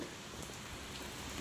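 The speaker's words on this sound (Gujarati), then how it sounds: "जोरदार बारिश चालू है" Steady heavy monsoon rain pours down, a dense, even hiss with no gaps, close and loud.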